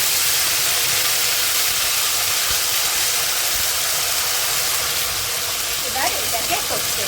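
A paste of ginger, cumin, green chilli and bay leaf frying in hot oil, producing a loud, constant close sizzling hiss throughout with little variation.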